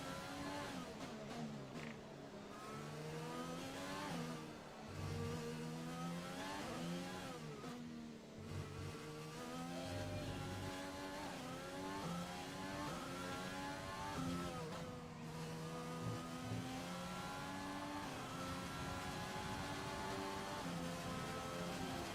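An F1 car engine in the F1 2020 racing game at the Singapore circuit, accelerating hard on hard tyres, steady high-pitched whine climbing and shifting through gears continuously.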